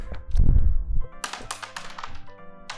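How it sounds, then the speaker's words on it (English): Dice rattle and clatter across a table in a quick burst of hard taps, followed by scattered lighter clicks as they settle, close and fairly loud. "Well, you hit me, so roll the dice."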